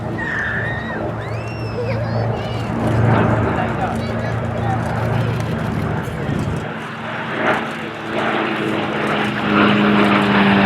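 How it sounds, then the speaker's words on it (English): A Hawker Fury warplane with its original Bristol Centaurus radial engine flies past at the Duxford Battle of Britain Airshow, a steady, loud propeller drone rising and falling as it passes, with someone talking over it. "And this Fury, one of the relatively few flying today with the original Bristol Centaurus engine."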